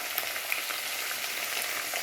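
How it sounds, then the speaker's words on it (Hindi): Drumstick pods frying in a pan give off a steady, close, fine crackling sizzle, even and continuous with no voices. "पहले सूटी को लाल करके भून लेते हैं।"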